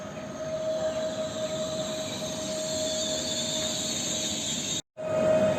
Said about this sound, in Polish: A tutaj melduje się wcześniej wspomniany pociąg SKM.